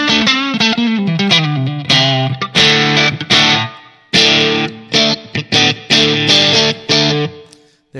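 Electric guitar played through the Line 6 POD HD500's Gibtone 185 amp model, based on the Gibson EH-185, with the drive set slightly low. Loud, mildly distorted chords and single notes ring out in phrases separated by brief silences.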